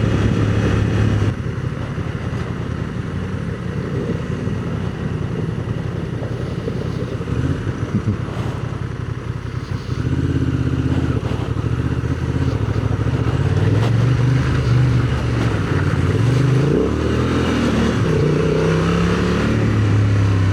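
Off-road vehicles drive a creek crossing on a group trail ride. A steady loud engine roar with revving and acceleration runs throughout and grows heavier and rougher in the second half, with no talk.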